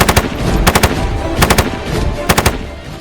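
An RPD light machine gun fires in short, sharp bursts of three to four rounds, loud and close, with brief pauses and echo between the bursts.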